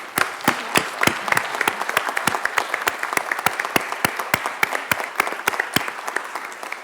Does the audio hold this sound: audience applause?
yes